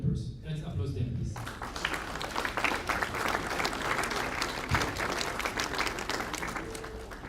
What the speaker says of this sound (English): Let's applaud them, please.